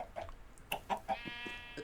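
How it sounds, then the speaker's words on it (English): Minecraft chickens cluck softly on a chicken farm, giving a few scattered short clucks and squawks at low volume with faint background noise. "This is my chicken and... my chicken farm"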